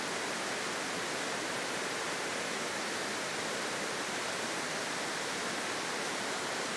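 Water pours over a river weir in the French countryside of the Creuse, giving a steady, dense rushing roar that holds unchanged throughout, with no voices.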